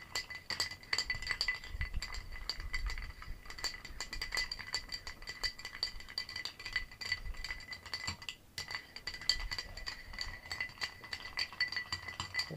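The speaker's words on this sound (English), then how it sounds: "so you're doing a stir just to help chill it up, to keep the different flavors noticeable" Ice stirred in a mixing glass for a moonshine martini cocktail, a steady run of quick bright clinks and rattles close up, continuing for several seconds with a brief pause.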